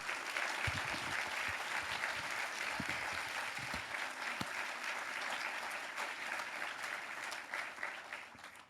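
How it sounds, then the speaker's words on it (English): Warm audience applause at a celebration honoring Secretary Riley and the Riley Institute's 20th anniversary, many hands clapping steadily for several seconds in a large room, with a few sharper claps standing out early on. "I want to applaud our 3 presidents"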